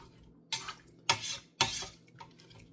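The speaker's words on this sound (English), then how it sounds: "give this a slight stir so everything is all together" A spoon clinks and scrapes three times against a pot of hot sauce ingredients on a stovetop burner. The strokes are sharp and close, with quiet gaps between them and no talking.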